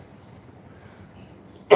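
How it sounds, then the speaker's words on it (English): One short, sharp cough bursts out at the very end, loud and close after a stretch of low background rumble during a home workout. "One cough."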